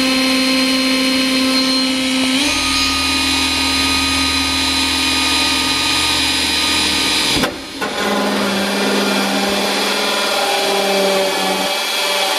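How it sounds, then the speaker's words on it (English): A drill works steadily through carbon fiber in a garage, its continuous whine shifting pitch partway through, with a brief break near the end before resuming close and loud. "So we're having to drill more holes, and there's already plenty of holes in this thing."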